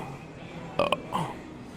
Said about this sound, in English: it says you're burping up beer.